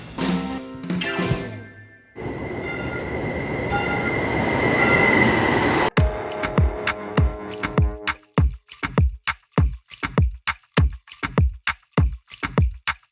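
A TEXRail commuter train running on a line into downtown Fort Worth, a loud rumbling passage followed by a fast, regular series of sharp wheel clacks over rail joints, close and prominent.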